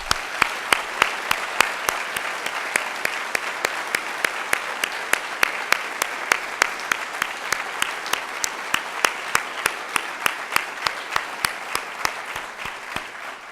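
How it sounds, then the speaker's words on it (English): A crowd at a memorial life celebration claps in a big, sustained round of applause, with one sharp clap standing out in a steady, evenly spaced rhythm over the dense wash of other hands. "Could we give them all a big round of applause?"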